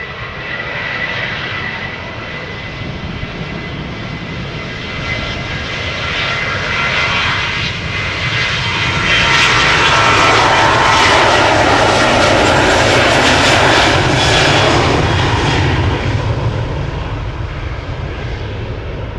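A 25-year-old KLM passenger jet, first flown in 1999, powers up for takeoff on a runway at Amsterdam Schiphol, bound for Bergen. A loud, steady engine roar swells and peaks midway, then holds close and sustained with no talk.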